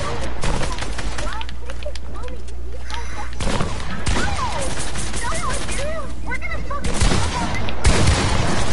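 Fortnite gunfire: dense, rapid bursts of shots with cracking hits, loud and continuous, mixed with excited voices talking and shouting over it.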